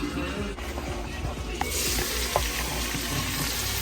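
Diced onion sautéing in a pot for ham and bean soup, a dense continuous sizzle that grows louder partway through, with a couple of brief utensil clicks.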